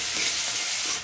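Chopped onion fries in a pan, giving a steady, dense sizzle that holds evenly close up with no voices.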